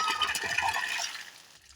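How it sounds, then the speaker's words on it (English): Water rushes steadily through a pipe into a garden irrigation reservoir tank for over a second with a hissy, turbulent flow, then cuts off abruptly near the end. "water goes up into the reservoir tank up there"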